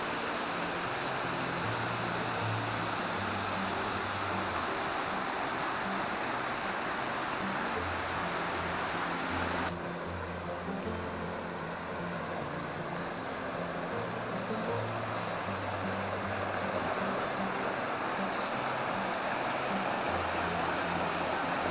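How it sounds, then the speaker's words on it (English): Horseshoe Falls at Caesar Creek State Park rushes hard after a night of heavy rain, a steady broadband roar of falling water filling the whole stretch with no pause, close and loud throughout. "The water is obviously running real well today."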